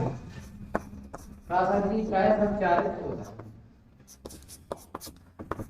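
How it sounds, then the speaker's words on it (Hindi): Math equations are handwritten with a pen, giving sharp, scattered scratching taps while someone speaks over part of the writing. "तो सबसे पहले लिख दे रहे हैं ये"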